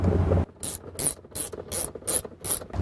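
A ratchet turns four T50 Torx bolts back in after a subwoofer install in a BMW F30. About six crisp clicking strokes come in a steady rhythm, close and clear, with no talking.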